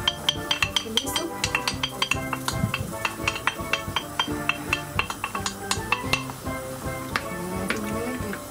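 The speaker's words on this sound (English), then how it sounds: "And make it boil and keep stirring, keep stirring." A spoon stirs pumpkin and chicken soup in a pot, giving repeated clinks and scrapes of metal against the pot at a quick, uneven rhythm, moderately close and fairly quiet.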